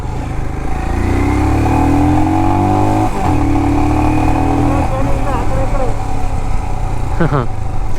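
Royal Enfield Himalayan BS6 motorcycle engine running steadily and loud throughout, with a pitch that rises and then drops, a revving swell near the end, and people talking close by over it.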